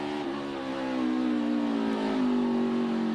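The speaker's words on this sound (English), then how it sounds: "Listen to the engine here of AJ." A NASCAR Xfinity Series race car engine at Circuit of the Americas revs in a sustained, loud, droning pitch that climbs steadily as the car accelerates, heard close and alone.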